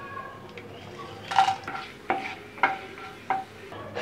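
Bay leaves, cinnamon, cloves and cardamom dropped into hot oil, a faint low sizzle broken by a few sharp spoon or utensil clinks against the pan.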